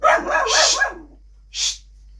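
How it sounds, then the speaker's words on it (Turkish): A dog barks and yips in a quick burst, followed after a pause by a single shorter bark. "Kediler köpekler mama savaşı veriyor."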